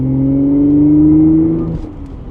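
An Audi S5 B8.5 with a manual gearbox accelerates hard on the road. Its engine drone is loud and close, rising steadily in pitch, then drops away sharply as the throttle eases near the end, with no voices over it.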